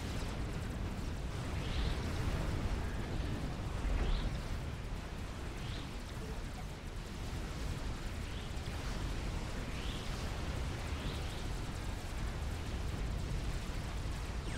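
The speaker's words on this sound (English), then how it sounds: "Looks like I'm just taking the brunt of the artillery barrage now." Artillery barrage in the strategy game Supreme Commander, heard as a distant, muffled rumble of repeated impacts with faint popping bursts scattered across a steady low roar.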